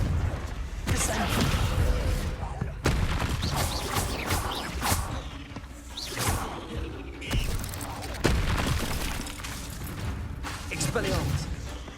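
Spell casting effects in Hogwarts Legacy during a fight with a giant spider, a string of sharp blasts, whooshes and impacts firing in quick succession while a voice calls out incantations between them.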